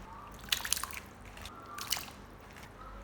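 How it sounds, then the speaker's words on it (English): Liquid drips and squishes as salted watermelon rind is squeezed by hand, giving a few soft, quiet splatters in two short bursts heard up close. "Squeeze the watermelon rind thoroughly to remove as much liquid as possible."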